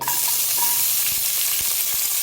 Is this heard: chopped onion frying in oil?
yes